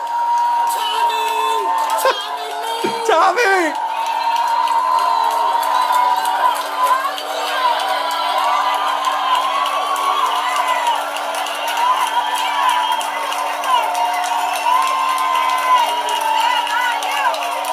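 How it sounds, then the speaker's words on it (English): A passionate Husky fan cheers and whoops for the alma mater after a game against Northwestern, loud and sustained, with crowd noise and voices filling the background throughout. "Listen to this passionate Husky fan cheering on the alma mater after we took on Northwestern."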